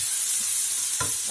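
Onions with garlic sizzle steadily in a pan, a constant close hiss joined near the end by one quick scrape of a stir.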